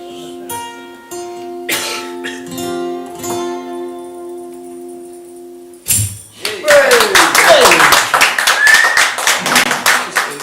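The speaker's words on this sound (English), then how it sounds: "No problem with slow clapping you." A slow rhythmic clap in a pub music venue after a song, with sustained guitar chords ringing out first, then a burst of hand clapping and cheering that builds into a dense round of applause.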